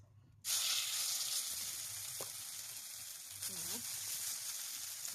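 Bottle gourd chakli in oil in a pan: a loud sizzle bursts in suddenly after a quiet moment, then settles into a steady, close hiss of frying.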